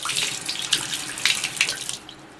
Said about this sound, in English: I just get it wet, and I just kind of squeeze the water, or squeeze the sponge to get the water really soaked into the sponge